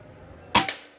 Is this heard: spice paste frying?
no